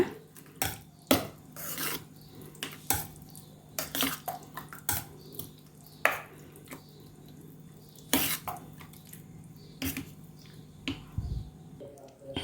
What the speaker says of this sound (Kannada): ಒಂದು ಕಪ್ ಆಗೋಷ್ಟು ಮೊಸರನ್ನ ಹಾಕಿದ್ದೀನಿ ಇವಾಗ ಚೆನ್ನಾಗಿ ಮಿಕ್ಸ್ ಮಾಡ್ಕೊಳ್ಳೋಣ